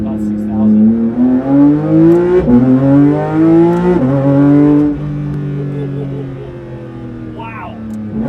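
Porsche 911 GT3 RS engine revving hard, climbing through the gears in rising sweeps with sharp shift breaks before easing off, loud and close, with faint talking over it.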